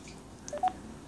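An LG Verizon Wireless phone gives two or three short, faint keypad beeps in quick succession, close by in a quiet room.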